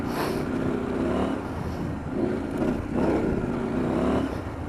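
A 2022 KTM 890 Adventure R motorcycle is ridden over a loose, dusty dirt track: a close, steady engine drone under heavy wind rush, swelling and easing in waves as the throttle changes.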